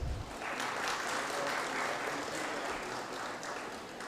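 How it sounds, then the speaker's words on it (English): An audience at the inaugural program of a CSIR-NML lab week greets dignitaries with sustained applause. Dense, even clapping carries on steadily throughout, with no voices above it. "Please welcome our dignitaries with a huge round of applause"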